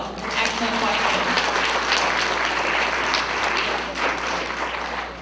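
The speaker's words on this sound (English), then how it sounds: "So give her a round of applause" Schoolchildren at an elementary school assembly, during a visit by Miss America, break into steady, continuous applause that holds at full strength throughout, a thick wash of many small hands clapping together.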